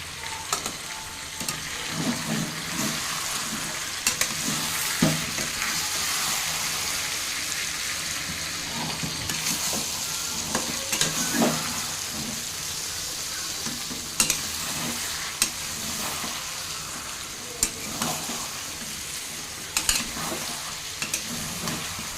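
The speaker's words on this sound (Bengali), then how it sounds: "তো লবণ আর হলুদ মেখে রাখা চিকেনটা আমি এখন মশলার মধ্যে দিয়ে দিলাম। তো চিকেনটা এখন দিয়ে দিয়েছি কড়াইয়ের মধ্যে।" Village-style chicken coated in salt and turmeric fries in spices in a wok, giving a steady, moderately loud sizzle with scattered scraping and stirring clatters throughout.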